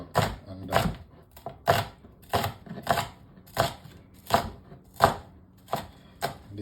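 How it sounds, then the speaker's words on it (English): A knife rough-chops an onion on a board in about ten evenly spaced, crisp thuds, close and loud with no talk. "Now we're gonna start on our onion. We're just giving them like a rough chop"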